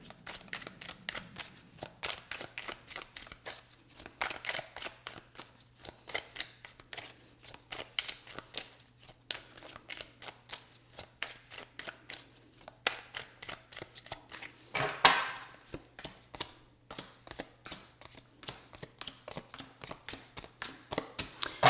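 A tarot deck is shuffled and cards are drawn by hand, giving a long run of quick, crisp papery riffles and flicks, close and fairly quiet, with one louder burst partway through.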